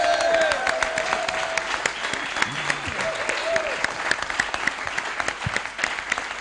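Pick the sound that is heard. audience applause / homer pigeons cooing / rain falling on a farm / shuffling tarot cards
audience applause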